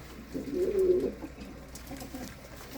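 A pigeon coos once, a soft low burbling call close by, fading into quiet background hum.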